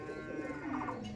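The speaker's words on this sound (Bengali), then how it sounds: "চলুন এই পায়রাটা স্ট্যান্ডিং দেখিয়ে দিই।" A high-flying Giribaz pigeon cooing up close, a soft low warbling coo under faint background noise.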